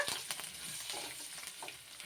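Curry leaves and a tempering crackle and sizzle in hot oil in a pan while a spoon stirs, making soft scraping clicks and small spits over a quiet, close, continuous fry.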